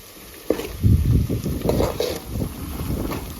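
Wind gusting across a gas stove, a low rumbling buffeting that starts abruptly and keeps surging close to the microphone, with no voices.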